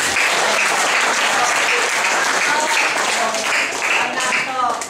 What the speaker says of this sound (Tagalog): Ang inaantok nga po yung pumalakpak na malakas.